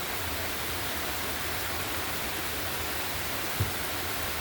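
Rain falling on a cool, wet day, a dense, even hiss of drops that holds steady throughout with one faint knock partway through and no voices.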